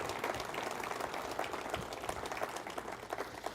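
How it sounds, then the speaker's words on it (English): An audience at a science and supernatural conference gives a round of applause, a dense, even patter of many hands sustained at moderate loudness. "would you give them a round of applause because we very much appreciate their ministry"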